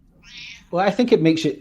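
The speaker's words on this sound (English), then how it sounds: "If you hear any meowing, it's because the cat has joined the stream." A cat meows once, a soft drawn-out call, just before a person starts talking close to the microphone.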